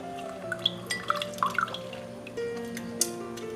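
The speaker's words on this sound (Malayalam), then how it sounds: "നമുക്ക് ഈ ഗ്ലാസ്സിലേക്ക് നമുക്ക് ഈ ലെമൺ പിഴിഞ്ഞൊഴിക്കാം" Lemon squeezed into a glass, juice falling in scattered, quiet drips and small splashes with a few brighter clinks, close and faint, no speech.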